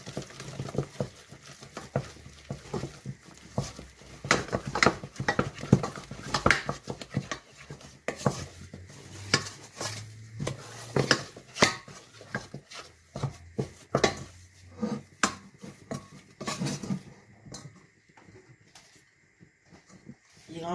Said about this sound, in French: je renverse ma farine. Et je mélange pour obtenir une boule.